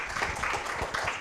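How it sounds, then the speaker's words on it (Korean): Lecture audience applauding to welcome a university professor onstage, a steady wash of many hands clapping at moderate level, continuous through the short moment. "큰 박수 부탁드리겠습니다."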